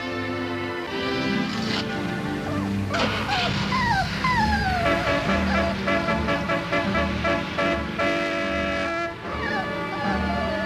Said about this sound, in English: Bob Alder's dog.